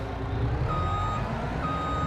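A truck's reverse alarm in Farming Simulator 25 beeps steadily and evenly over a low, constant engine rumble, with no talking.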